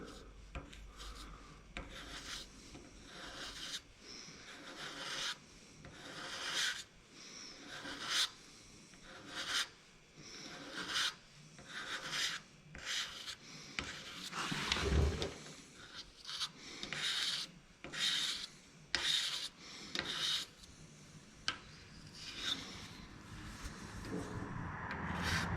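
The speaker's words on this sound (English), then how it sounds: "I still have to sand" A Chevrolet Suburban's car body is wet-sanded by hand, giving a steady run of rhythmic rasping strokes, each a soft scrubbing swipe repeated at an even pace, close and fairly quiet.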